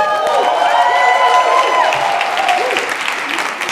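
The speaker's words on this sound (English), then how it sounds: "you should give a proper round of applause." An audience at a UK national business event bursts into a proper round of applause, dense clapping with whoops and cheers rising above it, loud and sustained before easing slightly at the end.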